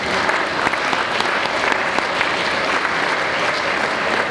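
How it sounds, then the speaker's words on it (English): Loud, sustained applause from a crowd at a 2008 academic society banquet in Rotterdam, a dense, steady roar of many clapping hands filling the room without pause. "please give her an applause as well"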